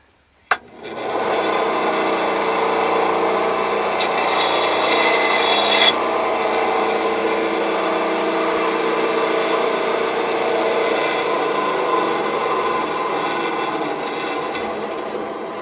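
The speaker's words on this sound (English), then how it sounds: "now here's a shot of the bandsaw and uh, I've got it in the drill. I just take it and cut it off" A bandsaw makes a steady rasping cut through a wooden axle pin held in a drill, running for several seconds after a sharp click at the start, loud and close with no talking.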